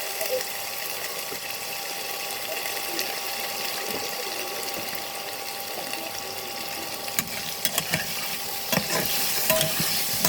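Ghee hits hot oil in a pan and sizzles loudly and continuously, with a few light clinks of stirring toward the end.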